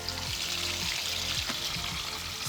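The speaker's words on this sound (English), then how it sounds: "So the water is going to come out." Water gushes steadily out of a drained fish pond tank, a continuous loud rushing pour with gurgling undertones, close by and uninterrupted.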